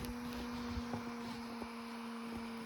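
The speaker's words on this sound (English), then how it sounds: "Listen to the fan." A small electric cooling fan on the ESC of an MST RMX 2.5 electric RC car spins with a steady, faint tonal whir that eases downward as it slows, alone with no one talking.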